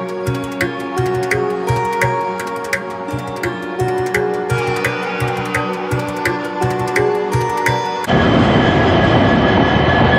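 A passenger train runs along the tracks near New Jalpaiguri, a steady rumble with repeated rhythmic wheel clicks. After about eight seconds it swells into a louder, broadband roar as it passes close by.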